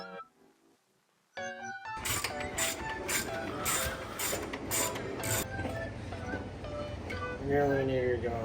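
A ratchet wrench clicks rapidly and steadily while loosening bolts on the rear subcage of a 2023 Honda Grom, the close mechanical chatter beginning abruptly after a brief quieter moment and continuing without pause.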